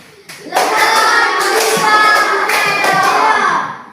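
A class of children claps hands together in a burst after a short pause, dense rhythmic clapping with young voices mixed in, loud and close before fading out.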